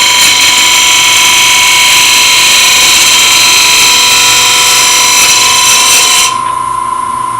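An end grain hollowing tool cuts wood on a lathe with a loud, steady, high whine and hiss that runs without a break, then drops off abruptly near the end, leaving a quieter hum.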